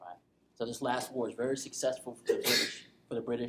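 A single sharp sneeze bursts out in a classroom, brief and fairly loud, cutting in among a lecturer's steady talking.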